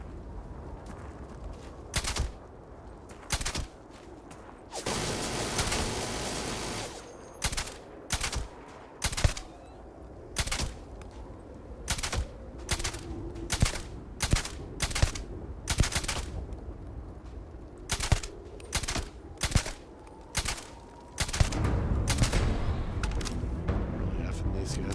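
Rifle fire in the sci-fi video game Starfield: Shattered Space, a long run of sharp, loud single shots spaced irregularly, plus one dense sustained burst near the start and a rumbling blast near the end, with a player talking over parts.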